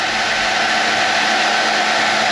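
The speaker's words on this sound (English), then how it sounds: "A hairdryer is good for this, or a heat gun, but be careful, don't overheat it." A hairdryer blows close and loud in a steady, unbroken whir while warming RAILBLAZA Quick Port mounts for foil boards and surfboards.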